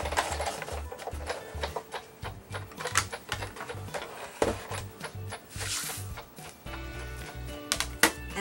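A Sizzix Big Shot die-cutting machine cranks a paper flower through its plates, giving a steady, close mechanical clatter of rhythmic clicks and knocks over about eight seconds, with no talking.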